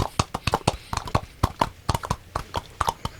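Coconut halves clopped together to imitate a horse's hooves, a steady run of sharp, close hollow knocks in a trotting rhythm, loud and alone with no talk.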